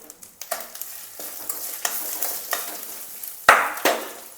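Dried red chillies and ginger frying in hot oil while being stirred, a sizzling hiss broken by repeated scraping stirs and a couple of sharper clanks near the end.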